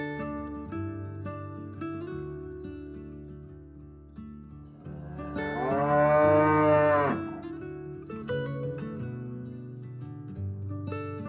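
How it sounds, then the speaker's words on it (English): Cattle standing on a rural rail-trail path moo in long, loud, drawn-out calls, one strong low moo rising and falling in the middle, with other softer lowing around it and no talking. "you might actually encounter cows on the path"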